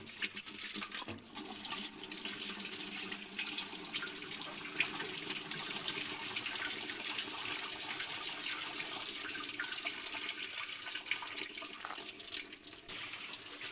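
Water running slowly through a downhill hose by gravity alone, with no pump, for off-grid desert laundry; a steady, soft trickling and gushing that goes on throughout, faint and alone without talk.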